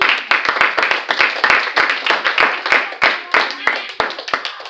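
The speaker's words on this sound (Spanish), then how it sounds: "¿Puede darle una ofrenda de palmas al Rey en esta hora?" Congregation clapping in church as an offering of applause, dense rapid handclaps from many people over several seconds, loud and close, with voices mixed in.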